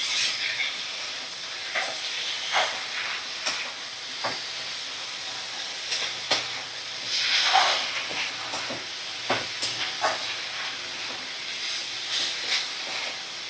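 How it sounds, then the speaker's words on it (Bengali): Dried shrimp with spices stirred in a pan over a medium flame, giving a steady soft sizzling hiss broken by scattered scraping clicks of the spoon, close and continuous throughout. "এইভাবে দেখো আমি 3 থেকে 4 মিনিট একদম মিডিয়াম ফ্লেমে রেখেই নাড়াচাড়া করে নিচ্ছি"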